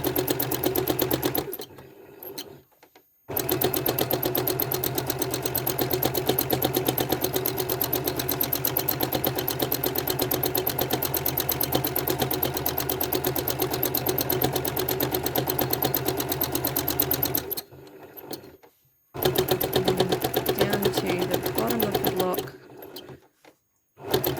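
A sewing machine stitches teardrop cluster quilting on a quilt, running in long loud bursts of rapid needle chatter with a few short pauses between runs.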